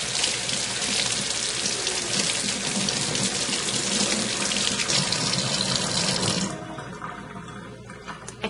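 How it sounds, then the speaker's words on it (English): Tap water runs steadily and loudly into a sink while CerMark is rinsed off metal, a continuous splashing rush that drops away near the end as the flow is shut off. "Turn the water on, rinse,"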